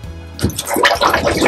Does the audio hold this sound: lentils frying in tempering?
no